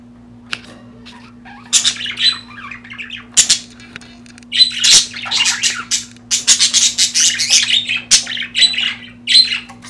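Budgies squawk and chirp loudly and close by at breeding time, with a male courting a female near a nest box. Sharp bursts of calls overlap and grow busier after a few sparse opening squawks.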